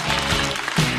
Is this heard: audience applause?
yes